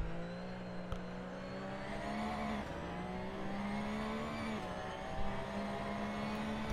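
A race car engine holds full throttle in the Assetto Corsa racing game at Barcelona, a steady droning whine with small pitch shifts at gear changes, heard alone with no talk.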